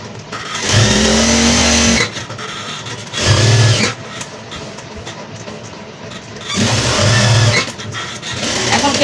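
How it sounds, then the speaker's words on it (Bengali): An overlock sewing machine stitches the side seam of a jubba in bursts of rapid whirring, three loud runs of about a second or more each, separated by quieter handling noise. "আমরা যেহেতু এটা জুব্বা, আমি সাইডে ওভারলক করে নেব"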